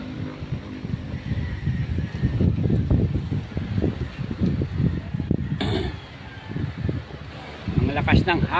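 Strong wind blows outdoors among pine trees in Tagaytay, rumbling in low gusts across the microphone while a person talks nearby.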